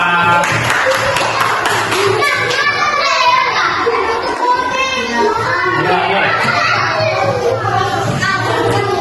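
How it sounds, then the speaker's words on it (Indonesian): Classroom of children clapping hands together for a classmate named Aska, a steady dense patter of applause mixed with children's voices and chatter. "Oke, tepuk tangan untuk Aska."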